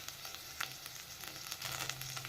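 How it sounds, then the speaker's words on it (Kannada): Whole cloves, cinnamon, black pepper and coriander seeds fry in a pan, giving a soft, steady crackling sizzle with a few small pops, faint and close, with no voices. "ಹಸಿ ವಾಸನೆವರೆಗೂ ಫ್ರೈ ಮಾಡ್ಕೋಬೇಕು"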